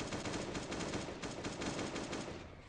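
A defensive turret in the video game Last Day on Earth fires a rapid, unbroken stream of loud automatic shots that tails off slightly at the end.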